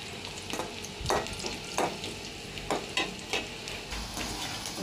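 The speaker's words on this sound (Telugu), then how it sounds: "ఇవి క్రిస్పీగా అయ్యేదాకా వేయించుకోవాలండి." Okra (bhendi) fries in oil until crispy, giving a steady soft sizzle broken by several sharp bursts of stirring or tossing in the pan, close and moderately loud, with no voices.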